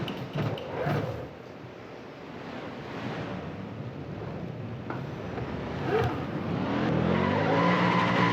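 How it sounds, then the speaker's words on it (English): A race car in NASCAR Racing 2003 skids with tyres squealing and engine roaring as it spins into the wall, the noise rising loud and rushing toward the end. "Alright, we're gonna get turned into the wall."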